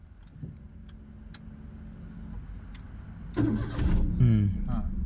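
A car engine is switched on during a first driving lesson: quiet cabin hum and faint clicks, then the starter cranks and the engine catches into a louder idle, with voices speaking nearby.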